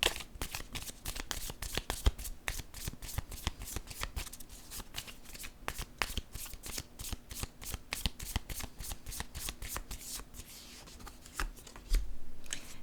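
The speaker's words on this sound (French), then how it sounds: "Je vais piger une autre carte." A deck of playing cards is shuffled with rapid, crisp riffling clicks repeating steadily for most of the clip, close and fairly quiet, followed by a brief pause and a softer rustle as a card is drawn.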